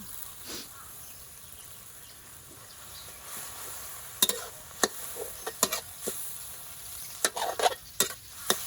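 Soft, steady sizzling of pork and basil stir-frying in a pan, with sharp clinks of a utensil scraping and stirring, growing more frequent toward the end.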